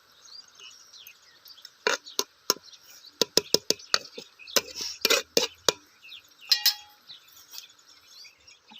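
Chicken biryani ingredients for a village-style biryani being stirred in a pot: a string of sharp metallic clinks and scrapes, irregular and close, with quieter gaps between and no talking.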